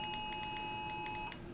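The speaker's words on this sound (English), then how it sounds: "We are getting a tornado warning here on my phone." A phone sounds a tornado warning emergency alert: a steady, piercing electronic tone with rapid pulsing beeps layered on it, loud and continuous for the whole clip with no talk.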